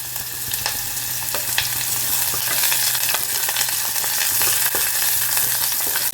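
Marinated chicken fries straight in a pressure cooker, a steady close sizzle with crackling pops and occasional stirring scrapes, no talk over it.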